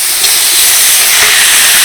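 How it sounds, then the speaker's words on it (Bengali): Pieces of goat fat sizzle in a dry wok with no oil, a loud, continuous close-up hiss that holds steady throughout without any voices. "শুকনো কড়াইয়ের মধ্যে কিন্তু চর্বিগুলো দিয়ে দিয়েছি এবার এগুলো কিছুক্ষণ নাড়তে থাকবো"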